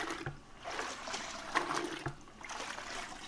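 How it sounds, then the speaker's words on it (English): Live rock dunked several times and shaken in used, murky salt water, giving soft close sloshing and trickling splashes in irregular bursts with no talk. "You would take your rock and you submerge it several times in the used salt water that's been sitting in for the last couple of weeks."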